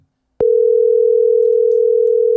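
Steady continuous telephone tone on an outgoing call, starting abruptly after a brief silence and holding unbroken at a loud level to the end, with no talk over it.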